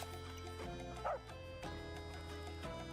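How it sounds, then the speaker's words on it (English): A small dog in a painting exploration video game gives a single short bark or yip, faint beneath steady background music, with no talking. "What a cute doggy."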